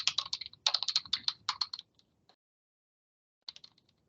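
Rapid tapping on a computer keyboard while a password is entered comes in quick close bursts, then stops for a pause before a few more isolated keystrokes.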